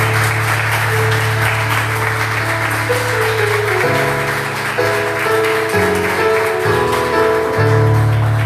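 A church congregation gives sustained applause at the close of a service, a steady wash of many hands clapping over sustained organ or keyboard chords.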